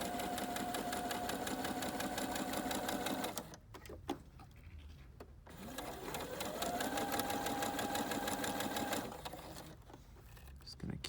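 A sewing machine stitches a ban-roll hem strip with a fast, steady whirring drone, close and loud. It stops briefly, then speeds back up to a second long run before pausing again.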